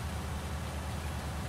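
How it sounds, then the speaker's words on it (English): Steady rain in the farming video game Farming Simulator 19 on Grizzly Mountain, a continuous even hiss of falling drops that holds constant with no talk over it. "Even if it is raining"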